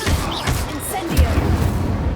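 An Incendio fire spell is cast in Hogwarts Legacy, a short fiery whoosh followed by a deep low boom and crackling rumble, loud and close, after a brief burst of voice.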